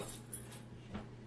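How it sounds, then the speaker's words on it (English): Brief, soft whimpering from a dog, a few high thin whines and a small yip close by in a quiet room. "now my crazy dog is here too, if you can hear him in the background"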